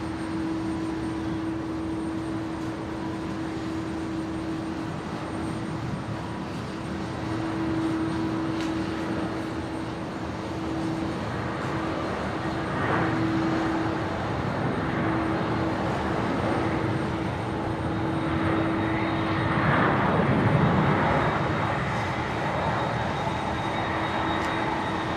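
A Q-link aircraft taking off from runway 01 right at Brisbane International Airport, a sustained distant jet roar rising and swelling toward the end over a steady tone, with no talk.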